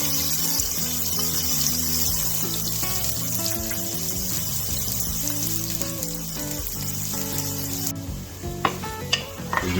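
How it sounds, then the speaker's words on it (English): Onions softening in a pan for a puff pastry pizza, a continuous sizzle with stirring scrapes beneath music playing throughout, ending in a few sharp clicks. "Go ahead and throw the onions in, getting them softened."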